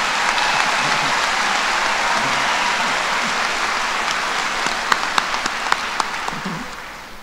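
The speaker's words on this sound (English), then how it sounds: "Can we give another round of applause for all of these students?" At a College of Natural Resources graduation ceremony, the audience gives the students a sustained round of applause, a broad, loud hiss of clapping that thins toward the end, leaving a few sharp individual claps.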